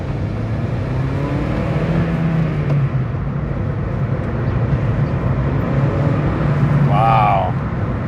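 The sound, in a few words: car engine shifting smoothly through first and second gear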